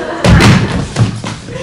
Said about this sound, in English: Master, knock the door hard.